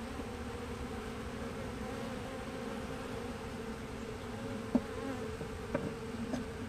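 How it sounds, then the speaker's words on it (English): A small swarm of honeybees buzzing loudly and steadily nearby, a dense continuous drone with a few faint knocks toward the end. "I'm telling you, they're buzzing so loud, almost like they're queenless."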